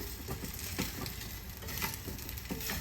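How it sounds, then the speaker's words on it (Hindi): Poha is roasted with a spice tempering in a pan, giving a steady close sizzle and hiss throughout, with faint scraping stirs now and then. "नाश्ते को हमें 1 से 2 मिनट के लिए तड़के के साथ भून लेना है"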